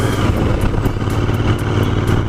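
Royal Enfield Continental GT 650 cafe racer motorcycle ridden hard in second gear past 100 km/h, a steady loud parallel-twin engine drone with rushing wind, close and continuous.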